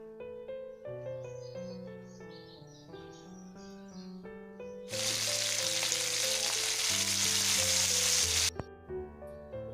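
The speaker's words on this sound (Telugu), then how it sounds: "ఈ మటన్ పీసెస్ అన్నీ ఆయిల్లో కాసేపు ఫ్రై చేసుకోవాలి" Boiled mutton pieces fry in hot oil with a loud, hissing sizzle that bursts in midway and lasts a few seconds before cutting off, heard over continuous background music.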